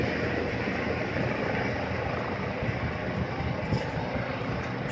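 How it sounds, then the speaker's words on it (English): A helicopter landing on a town square gives a steady, loud rotor and engine roar that fills the whole stretch without a break. "Helicopter lands on the square."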